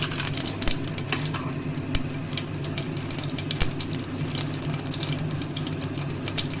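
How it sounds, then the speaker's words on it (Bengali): Whole spices, garam masala, bay leaves and cumin seeds sizzling in hot oil, a constant close crackle with scattered sharp pops and some clinking throughout. "তেল গরম হয়ে গেছে গরম মশলা আর তেজপাতা দিলাম ফোড়নে আর দিলাম সামান্য কিছু গোটা জিরে"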